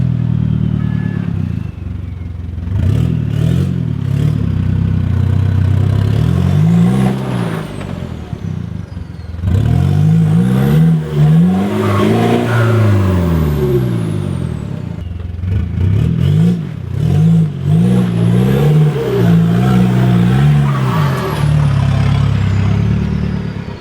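An off-road vehicle's engine revs hard as it climbs a steep bush track, loud rising and falling surges in several long bursts with clattering from the body and terrain, close to the microphone.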